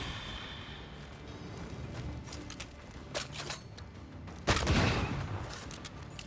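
Scattered gunshots in the video game Banishers: Ghosts of New Eden, a few sharp cracks followed by a louder, heavier blast near the end, over a low ambient game background.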